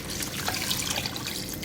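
Water poured steadily into a cooking pot for pulao stock with meat and a spice bundle, a continuous close splashing trickle with no pauses.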